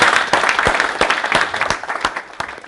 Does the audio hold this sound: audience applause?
yes